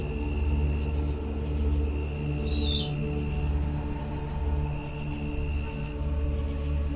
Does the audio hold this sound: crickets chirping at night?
yes